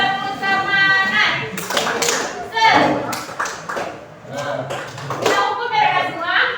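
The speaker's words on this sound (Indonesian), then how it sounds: "Tepuk semangat." A classroom of students does a rhythmic spirit clap, with bursts of hand claps repeating in a steady pattern while voices chant and talk throughout.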